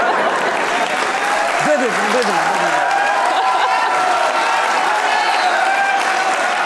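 A studio audience at a comedy talk show applauds in a sustained, even roar of clapping, with a voice briefly speaking over it.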